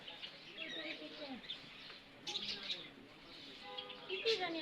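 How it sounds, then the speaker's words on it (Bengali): Small lovebirds in a rooftop garden give faint, quick chirps and short calls in a few bursts, while a person talks nearby. "Love bird."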